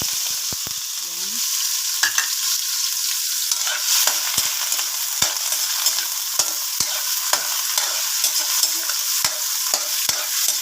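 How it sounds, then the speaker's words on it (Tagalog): Onions sauté in a pan before squid is added, a bright continuous sizzle close by, punctuated by frequent sharp crackles and pops of spattering oil. "Mag-gisa muna tayo ng sibuyas"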